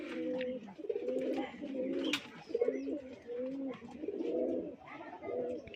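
Rajshahi Giribaz pigeons coo close by in a loft, giving repeated throaty, rolling coos in uneven bursts, with occasional soft flutters and clicks between them.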